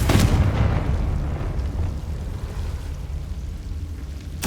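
In Hogwarts Legacy, a Confringo spell detonates with a loud blast at the start, followed by a sustained rumbling roar and a second burst at the very end.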